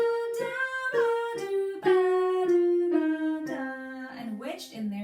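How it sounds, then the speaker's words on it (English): A C blues scale sung by a solo voice, descending note by note in a smooth, sustained line with gentle slides between pitches, clear and close with no accompaniment. "The blues scale that we use and know today officially on C sounds like this."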